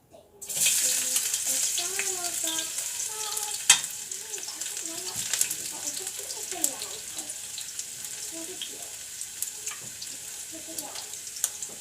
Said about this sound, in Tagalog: mainit na yung oil na nilagay ko. Ilagay muna natin ng una yung itong onions, garlic muna.